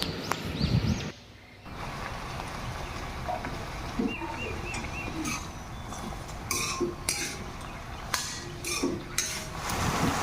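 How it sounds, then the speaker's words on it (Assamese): Taro flowers sizzle as they fry in a wok, a steady sputter with scattered metallic clinks and scrapes of a utensil against the pan, fairly close, with no talk. "কচু ফুলখিনি 5 মিনিটমান ভালকৈ ভাজি ল'লোঁ"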